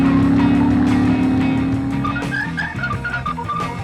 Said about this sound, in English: the exhaust note through those dual P-shooter pipes is pleasant but certainly not overwhelming